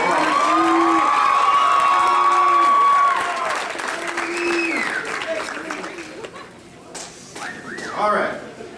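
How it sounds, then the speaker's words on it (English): Applause and cheering from a senior prom crowd after a couple is announced, with whoops and shouts over the clapping while a voice carries through a loudspeaker, the noise easing toward the end. "Let's give him a round of applause."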